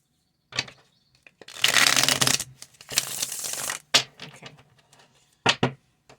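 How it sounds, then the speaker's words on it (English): Tarot cards are shuffled in several bursts of crisp riffling and flicking, close up, separated by brief pauses and a few single snaps. "Nice shuffle."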